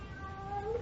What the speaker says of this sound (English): Oh? Cat. The neighborhood is cat full.